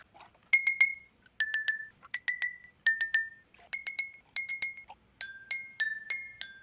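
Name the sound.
glass cups with water played as a homemade marimba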